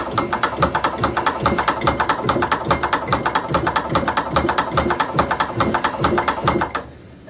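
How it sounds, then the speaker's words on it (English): A hand-cranked belt hole punching machine feeds a leather strap, cranked briskly with a loud, fast, even ratcheting clatter of gears and clicks that runs steadily, then stops at the end. "you want to turn the handle fairly hard or fairly briskly as it feeds the leather through the machine"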